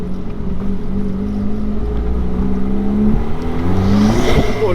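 A turbocharged car engine accelerates hard close up, its roar climbing in pitch through rising sweeps as it pulls away, with no voices heard.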